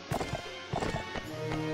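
Horse galloping in the Mount and Blade Warband video game, a quick repeating clip-clop of hooves, close and fairly loud over a busy game soundscape.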